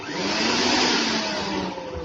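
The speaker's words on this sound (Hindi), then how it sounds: "मिक्सी चलाओ।" A kitchen mixer grinder whirs steadily at high speed, a loud continuous motor drone with no pauses.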